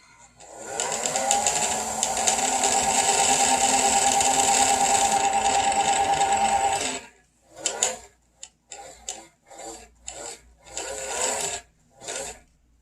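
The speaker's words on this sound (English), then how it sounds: "it starts to wind that bobbin for me" A sewing machine winds a bobbin with a steady, even whirring hum for about six seconds, close and clear. It then stops, and short uneven bursts of motor running and mechanical clicking follow.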